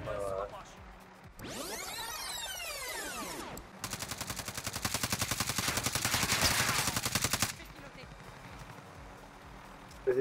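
Rapid automatic gunfire in a shooter video game, a long dense burst of evenly spaced shots after a sweeping whoosh, with other game noise around it and brief voices in the background.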